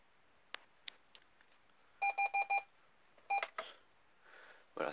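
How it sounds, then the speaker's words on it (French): Alarm clock timer in a board game, a few clicks followed by a run of four quick electronic beeps, then a shorter beep burst and a final chirp, all clear against a quiet background. "Voilà, ça c'est le réveil."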